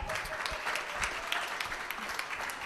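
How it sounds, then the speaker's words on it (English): Studio audience clapping for guests at the end of a live podcast episode, a steady patter of many hands at moderate level with no talk over it. "how about another round of applause for the guests on the show, Lee Reed, Jeremy Dutcher, Anupa Mistry."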